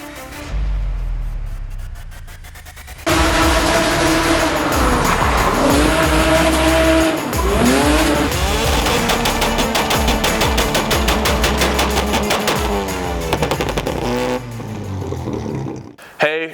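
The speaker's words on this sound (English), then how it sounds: "this is my 4-time winning two-step competition FB RX-7" Mazda FB RX-7 two-step competition car with a rotary engine, firing loud, rapid popping bangs and crackling bursts that hold for about eleven seconds before cutting off.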